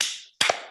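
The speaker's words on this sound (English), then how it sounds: "If you're happy and you know it, clap your hands." A pair of sharp hand claps, a quick double smack close to the microphone followed by a short ringing decay, with no talking during the sound.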